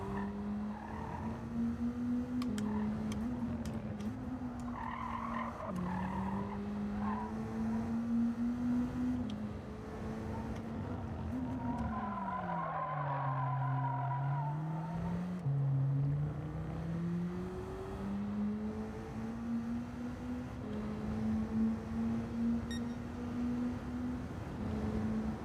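BAC Mono '16 race cars in Gran Turismo 7 drone steadily through a corkscrew, engine pitch dipping and rising as they brake and accelerate, with tire squeal and skidding layered over a continuous, loud engine note.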